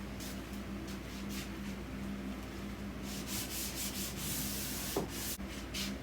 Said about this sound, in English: I'm going to lightly sand them and apply the second coat